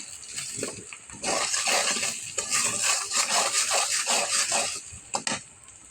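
Spice masala of garam masala powder and salt being stirred and sautéed in a pan for lemon pickle, with a continuous wet sizzle and scraping, plus a few clatters near the end.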